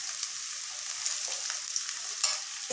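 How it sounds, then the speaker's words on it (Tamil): Sliced onion and green chilli sauté in a pan for a noodle dish made from raw rice, giving a steady close sizzle with light stirring scrapes, no voices. "வெங்காயம் ரொம்ப வதங்க கூடாதுங்க. பாருங்க, இந்த அளவுக்கு வதங்கிச்சுன்னா போதும். இப்போ ஒரு பச்சை மிளகாய் சேர்த்திடலாங்க"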